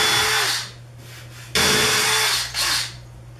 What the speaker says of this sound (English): I'm gonna go ahead and create a pilot hole.